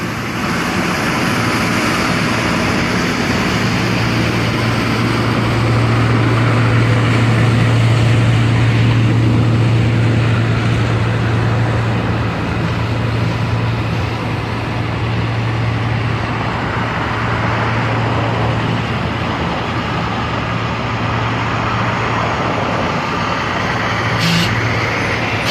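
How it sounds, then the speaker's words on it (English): Heavy trucks and excavators work at the Las Vegas stadium construction site, a steady broadband rumble of diesel engines and rolling traffic with a low droning hum running throughout, loud and continuous. "I see more of a flow of traffic for these trucks."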